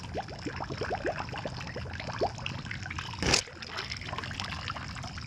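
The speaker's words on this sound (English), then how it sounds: "I'm going to go ahead and fill it up with some water from the pool here." Pool water trickles and dribbles into an acid container being filled for a 4-to-1 acid solution to clean a Pentair iChlor salt cell, a soft, steady, close splashing with one brief louder burst midway.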